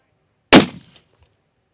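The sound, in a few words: 300 Win Mag rifle shot at long-range target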